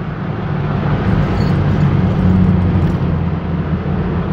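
A 1974 Chevrolet Camaro with a 350 V8 kicks down and accelerates, a loud, steady engine roar heard from inside the car that holds strong across the shift with no break.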